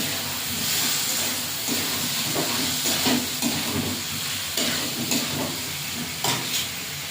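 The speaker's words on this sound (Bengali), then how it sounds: "ঝোলটা ফুটে গেছে, এবারে মাছগুলো দিয়ে দেবো।" Bengali sol fish kalia curry gravy bubbles and sizzles in a pan, a steady close hiss with soft irregular bubbling and occasional louder spurts, no talking.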